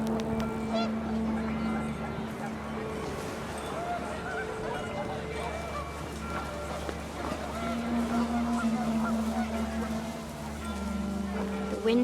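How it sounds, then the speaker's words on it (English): Panicked geese honk in the video game What Remains of Edith Finch as the wind picks up, a steady layered honking mixed with background music and ambience beneath ongoing narration. "The wind picked up, and panicked geese appeared and quickly went."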